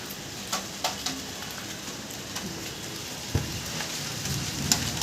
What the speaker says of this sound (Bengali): মেঘ ডাকছে কখন থেকে আর বৃষ্টি এখন হলো কিন্তু করে পড়ছে সেরকম জোরে হচ্ছে না